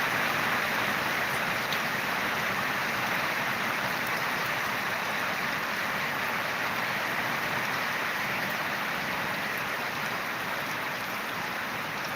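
Steady rain falls over a village, a dense, even hiss that holds without pause at a moderate level, with no voices.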